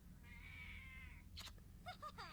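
A cat meows softly and close by, first with a long drawn-out wavering call, then with a few short chirping meows in quick succession.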